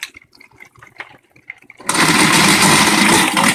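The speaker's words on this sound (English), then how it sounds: "And turn on the food grinder." A food grinder switches on under a trickle of warm water. Quiet knocks and rustles give way to a sudden loud, dense whirring grind mixed with running water that holds steady to the end.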